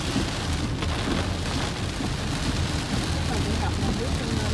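Heavy typhoon rain pours down steadily on Phu Quoc island, a dense, loud, unbroken hiss with a deep rumbling undertone and no gaps.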